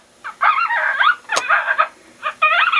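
Coyote pup distress call played from an electronic caller: a series of high, wavering yelps and whines in several bursts, with a sharp click partway through.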